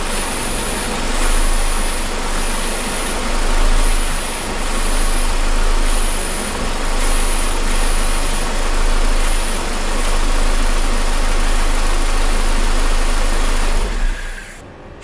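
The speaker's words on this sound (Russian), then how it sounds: "Заработал автомобиль, и теперь я вращаю руля." An eight-year-old car with 120,000 km idles while the steering wheel is turned, the power steering giving a steady high whine and pulsing squeal over a loud, close engine drone that cuts off at the end.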